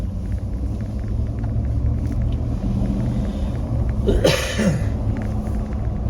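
A left-hand-drive car imported from California driving along, its steady low engine and road rumble continuous throughout, with a brief louder whoosh near the end.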